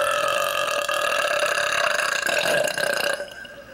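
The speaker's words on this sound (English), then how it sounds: "I'll be the judge of these burps." A long, loud belch played back from a video, a drawn-out croaking burp lasting about three seconds before cutting off.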